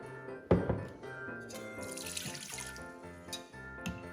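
Water runs from a tap into a pan with a steady splashing hiss, a few clinks and knocks around it, fairly close, no voices.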